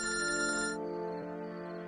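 An incoming call sets off a phone's electronic ringtone, a bright, steady melodic tone. A fuller layer of it cuts off partway through and a softer, sustained ring continues alone, heard close and fairly quiet.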